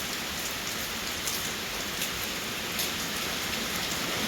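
Steady heavy rain pours during a storm in Laos in late April, a dense even hiss of drops hitting surfaces that continues without a break, with no voices.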